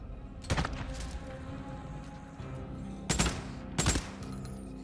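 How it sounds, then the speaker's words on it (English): A Tommy gun in the game Days Gone fires short, punchy bursts: one brief rattle near the start, then two more quick bursts close together near the end, over a low ambient background. "This Tommy gun is pretty effective."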